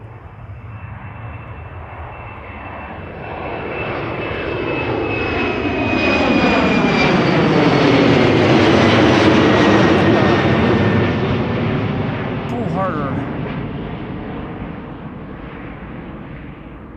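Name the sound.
KLM airliner engine at Amsterdam Schiphol Airport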